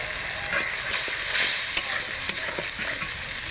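Spice paste of chili powder, tomato and salt sautéed and stirred in a pan for a sea-fish and new-potato curry, a steady close sizzle broken by repeated scraping stirs, with no talk.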